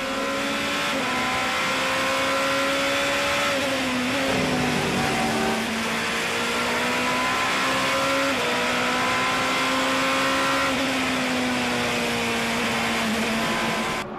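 LMP2 prototype race cars battle on track, engines roaring loud and close for a sustained stretch, their pitch climbing and dropping repeatedly through gear changes.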